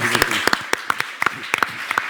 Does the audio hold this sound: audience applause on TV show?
yes